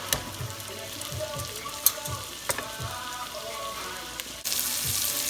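Jerk shrimp sautéing in sauce in a pan, a steady close sizzle and bubbling with occasional soft stirring taps and scrapes, the frying swelling louder near the end.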